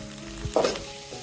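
Spice powders for a pangas fish curry, including chili, turmeric and Kashmiri chili powder with salt, fry briefly in a pan, giving a short close sizzle with a quick stir.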